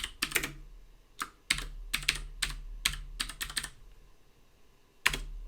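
A computer keyboard is typed on up close in short bursts of crisp clicks, with pauses between, ending with one final keystroke, as a name is entered during video editing.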